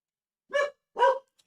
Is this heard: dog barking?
yes